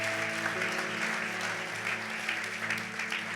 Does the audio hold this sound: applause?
yes